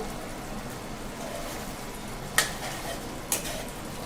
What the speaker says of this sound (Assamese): এতিয়া গেছৰ ফ্লেম মিডিয়াম কৰি ৰাখি আৰু কিছু দেৰি উতলিবলৈ ৰাখি দিম